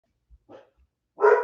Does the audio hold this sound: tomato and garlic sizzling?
no